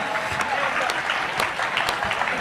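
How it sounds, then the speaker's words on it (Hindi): Continuous audience applause at a prize ceremony for an Urdu speech competition, a dense, steady wash of clapping with a few sharper claps standing out, heard close and without pause. "मुसलसल तालियां बजती रही।"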